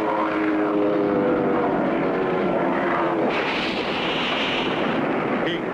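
A cartoon propeller airplane ramming a giant bug, its loud engine drone holding steady, then breaking into a rough, noisy roar as the crash hits.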